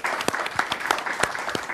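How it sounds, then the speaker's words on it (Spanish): Studio audience applause on a television talk show, a steady wash of clapping from many hands with sharp individual claps standing out, close and fairly loud throughout. "Un fort aplaudiment per les ulleres."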